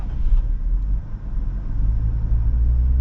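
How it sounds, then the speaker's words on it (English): Close, low engine rumble from a high-mileage Jeep Wrangler JL as it restarts through auto stop-start, settling into a steady idle, no voices. "it has auto stop start and it still works, starts right up perfectly fine"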